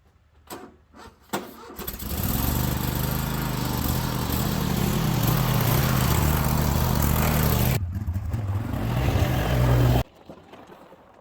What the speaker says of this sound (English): So let's get started on the mower.